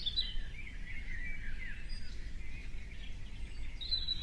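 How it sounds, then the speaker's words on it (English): Birds chirp and sing in a steady, fairly faint chorus, with thin high calls drifting over a low background rumble. "You can hear the birds singing sweet songs."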